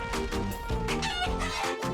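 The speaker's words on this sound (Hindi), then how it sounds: "ये यहाँ की मुखिया मुर्गी है।" A cartoon chicken clucks and crows loudly and close, in a burst of rapid, buzzy squawks lasting about two seconds, with no talk over it.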